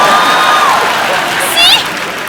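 Studio audience at a comedy talk show claps and cheers in a broad, steady wash of noise, with some shouting voices and a brief whistle-like tone near the end.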